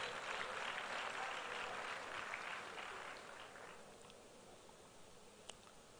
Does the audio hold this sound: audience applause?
yes